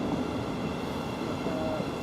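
A train at Stevenage station on the East Coast Main Line, heard as a steady, fairly faint rumble and hum that continues throughout, with a brief higher whine near the end and no talk.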